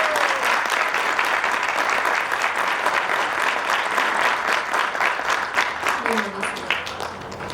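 At a middle school graduation ceremony, the audience applauds honors students, dense sustained clapping with crowd voices mixed in, loud at first and easing toward the end.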